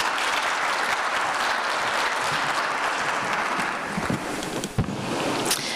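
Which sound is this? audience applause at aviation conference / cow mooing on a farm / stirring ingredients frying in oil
audience applause at aviation conference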